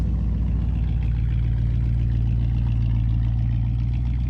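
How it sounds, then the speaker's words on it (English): A 1958 Chevy Biscayne hot rod engine idling smoothly, a steady low even rumble, close and loud, with no change in pace throughout. "Couldn't ask for smoother running engine."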